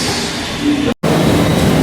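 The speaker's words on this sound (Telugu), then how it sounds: "ఇదేనండి ఢిల్లీ మెట్రో. ఢిల్లీ మెట్రో అంటే పోతుందండి" Delhi Metro train rolling past in the rain, a loud steady broadband rush and rumble that stops briefly, then resumes at full strength.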